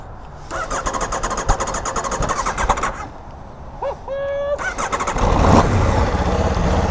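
A motorcycle engine cranks with a rapid starter chatter and a brief whine, then catches and rises to a loud rumbling idle, close by.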